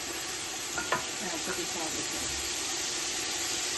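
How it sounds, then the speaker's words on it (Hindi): Chicken for pulao frying and being stirred in a pan, a steady broadband sizzle with a few soft scraping strokes near the start, close and continuous. "we're just constantly stirring that so it releases the water and the flavour"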